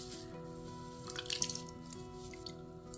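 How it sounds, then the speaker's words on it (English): A makeup brush is swished back and forth and squeezed in soapy water, making soft wet squishes and drips up close, with a faint steady hum in the background. "I just swish back and forth, and then kind of like squeezing some of that out"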